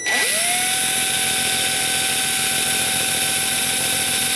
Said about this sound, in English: I have some diamond grinding bits, and I'll put a very thin one in there, and I will grind this out with